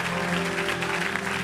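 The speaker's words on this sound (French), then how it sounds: "Sous nos acclamations pour le Seigneur." A church congregation applauds the gospel singers, a dense, steady wash of clapping with sustained organ or keyboard tones sounding underneath.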